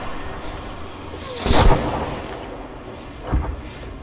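Battle sounds in the video game ArmA 3: two separate explosive booms, the first louder and nearer, the second fainter, set against a constant low rumble of distant combat.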